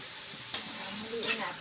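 Tomato paste and tomato sauce stirred together in a pan for chicken afritada, a short spell of scraping and soft sizzling with a louder stroke near the end.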